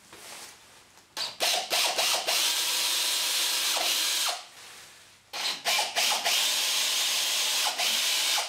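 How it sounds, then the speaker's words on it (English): A power drill drilling small pilot holes whirs in two sustained bursts with short revving starts, close and loud, separated by a brief quiet pause. "I'm now just going to drill a small pilot hole at each end."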